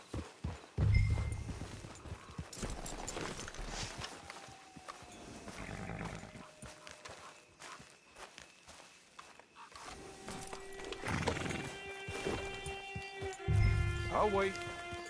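Horse sounds in a video game, with hoof clip-clops and animal snorts scattered among game ambience and music while people talk over it.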